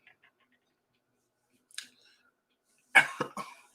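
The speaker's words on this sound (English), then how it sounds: "Let me get one big cough out." A person coughs hard, a burst of harsh coughs and throat clearing close to the mic, after a brief faint sound and short pause in an otherwise quiet room.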